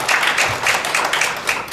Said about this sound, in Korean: 예, 박수 한번 주시죠.